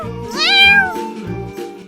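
Cartoon kittens meow in a few high, rising and falling cries, loud and close, with no other sound around them.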